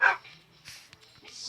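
Dogs bark in a short yappy burst at the start, followed by softer scattered yips and whimpers over quiet background.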